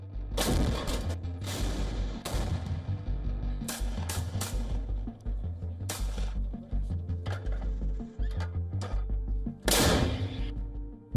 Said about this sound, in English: Buzz of drones and boom of explosions drown out midnight celebrations.